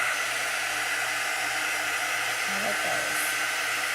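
A hair dryer blowing on chalk paste over a door decoration, a steady, loud, close whooshing hiss with no break, and a brief spoken phrase under it.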